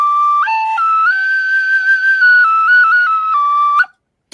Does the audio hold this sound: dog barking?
no